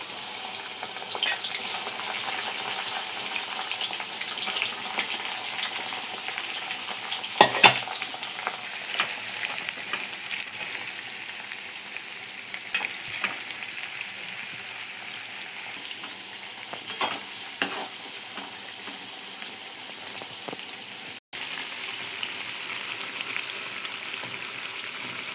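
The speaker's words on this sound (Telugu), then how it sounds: "ఫస్ట్ అయితే బెండకాయలు డీప్ ఫ్రై చేస్తున్నాము." Okra deep frying in hot oil for a peanut and okra stir-fry gives off a steady, close crackling sizzle that runs throughout, with a few louder pops and stirring clatters.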